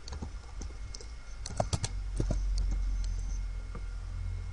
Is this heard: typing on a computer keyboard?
yes